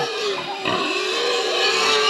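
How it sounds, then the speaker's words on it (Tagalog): Pigs at a feeding trough squeal while they wait for feed. The cries are close, shrill and continuous, with overlapping high squeals that rise and fall and swell louder near the end. "nagaantay na oh, nagiiyak na yung baboy oh."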